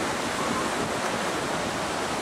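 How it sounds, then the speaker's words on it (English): Atlantic Ocean surf at Cape Canaveral makes a steady, loud broadband wash of waves mixed with wind noise, continuous with no distinct breaks. "We're standing over the Atlantic Ocean."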